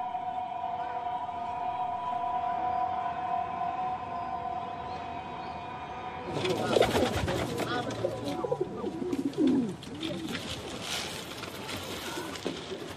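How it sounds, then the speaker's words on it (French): Ornamental pigeons in China cooing over a low hum, followed midway by louder fluttering and scattered bird calls; talk may be present. "de nombreux habitants n'ont pas renoncé à élever des pigeons d'ornement"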